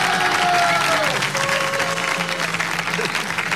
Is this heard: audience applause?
yes